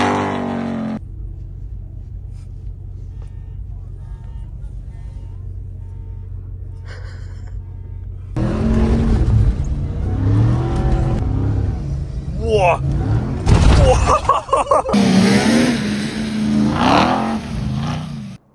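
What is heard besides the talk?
SLS Rally truck engine cold start and revving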